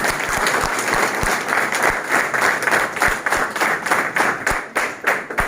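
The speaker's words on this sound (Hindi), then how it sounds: "बजे ताली।" An audience at a political gathering claps steadily in a loud, dense burst of applause, with occasional sharp, close claps standing out over the crowd wash and no speech.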